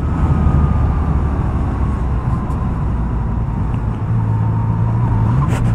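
Yamaha MT-09 motorcycle ridden over speed bumps at about 40 km/h, a steady loud engine drone with a gliding tone under heavy road and wind rumble, continuous throughout with no talk.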